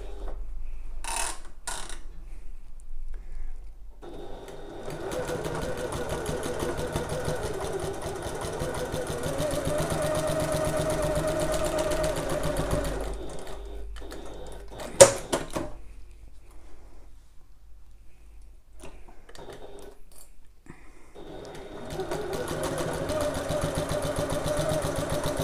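A sewing machine runs a seam on a messenger bag at regular stitch length, with a long steady mechanical hum broken by short stops, a sharp clunk midway and a final resumed run, close by.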